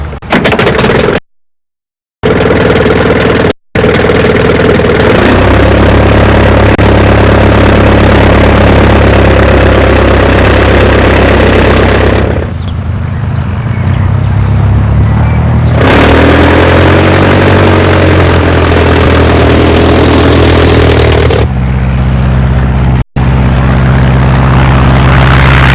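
An early triplane's propeller engine coughs to life after short dropouts, then runs loud and rough, shifting between a deep idle and harder revving with sputters and pops throughout.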